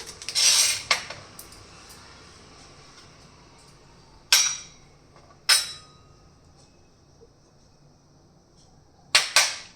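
A spoon clinks against a dish while stirring custard powder into a smooth paste, a few sharp metallic taps spaced apart over quiet background.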